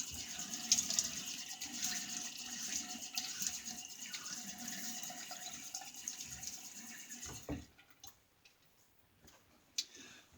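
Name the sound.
tap water running while wetting face for a shave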